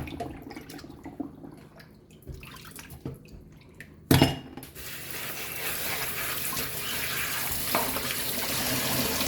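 Water runs steadily from a kitchen tap while food is washed in a sink for a Jamaican breakfast, with a sharp clatter partway through and the flow growing louder and fuller toward the end.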